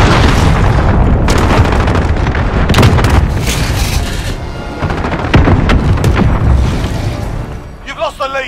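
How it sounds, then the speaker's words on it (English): A cruise missile strike in Call of Duty: Modern Warfare, a loud barrage of booming blasts and cracking gunfire rolling close, with a brief voice near the end. "Allied cruise missile away"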